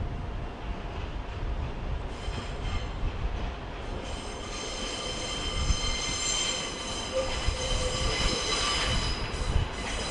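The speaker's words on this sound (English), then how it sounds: "A 142 pacer train." A Class 142 Pacer train moves through a Manchester station with rumbling wheels and sustained high metallic squeals from the rails, growing louder and brighter over about ten seconds; no one speaks.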